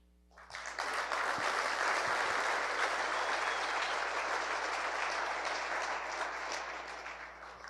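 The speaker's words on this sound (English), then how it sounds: "give a round of applause to the Taylor family" Sustained applause from an audience at a St. Louis soccer celebration, a dense, steady wash of clapping that swells in quickly, holds strong, and tapers slightly toward the end, with no talk over it.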